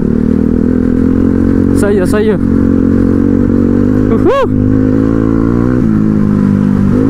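A motorcycle rides off-road over slippery, muddy ground. Its engine holds a loud, steady drone close by, and riders call out briefly over it.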